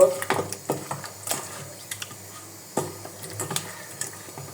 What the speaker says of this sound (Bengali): হলুদের গুঁড়া ভালো করে হাত দিয়ে মেখে নেব।